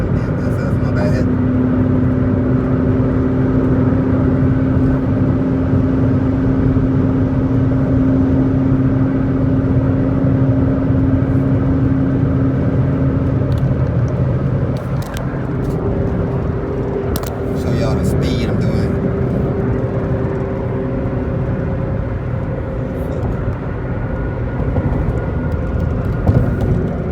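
A car cruises at 90 mph on Houston roads, producing a steady engine and road drone throughout while someone talks over it.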